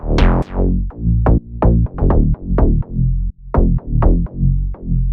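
A warm sub bass layered with a bright synthesized top bass made in Serum plays a choppy electronic bass pattern of punchy, rapidly decaying notes, loud and up front with no voices.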